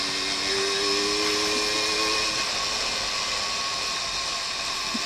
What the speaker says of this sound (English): Taxi two-stroke.